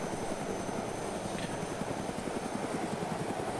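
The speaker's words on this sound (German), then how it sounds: "Und dann hebt der Hubschrauber automatisch seine Vorwärtsbewegung auf und schwebt in der Luft." A hovering helicopter in the video game DayZ gives a steady, moderately loud rotor and engine drone with a faint rhythmic chop, continuous and unbroken, with no one speaking.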